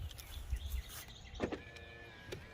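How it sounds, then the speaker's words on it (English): Side mirrors on a 2021 Ford Explorer Limited power-folding inward as the SUV locks, a short close electric motor whir followed by a second brief whine, with low rumble beneath and no voices. "To lock it, you just press that, the mirrors will fold in."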